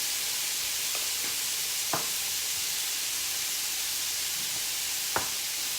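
Fajita filling with seasoning and lime juice is stirred in a hot pan, a continuous close sizzle broken by two sharp scrapes of the utensil against the pan.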